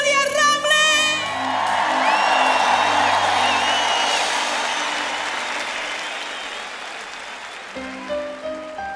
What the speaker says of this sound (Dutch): Geef haar een keihard applaus.